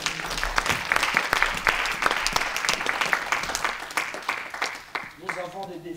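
Congregation applauding during a French-language church sermon, dense steady clapping from many hands sustained throughout, with a voice entering near the end.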